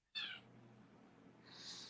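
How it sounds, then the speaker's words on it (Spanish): A cat gives a single short meow close by, then quiet room tone follows with a faint high hiss at the end. "Ay, es un gato."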